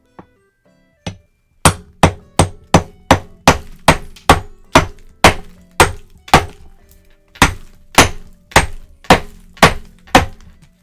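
A rock is smashed open with repeated hard, loud blows: after two isolated knocks, about twenty sharp thudding impacts land in a steady, fast rhythm, each ringing briefly before the next.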